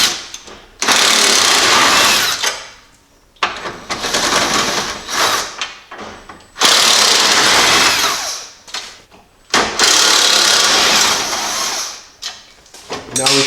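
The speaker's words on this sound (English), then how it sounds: "you actually have to take all 5 of these Torx bolts off" A power tool spins out Torx T27 bolts on a Jeep with a 4.0 engine, making four loud whirring bursts of a few seconds each with short quiet gaps between them.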